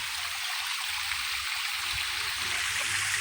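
Small waterfall at a stream in Lope de Vega, Northern Samar, pouring in a steady broad rushing hiss, close and constant with no talk.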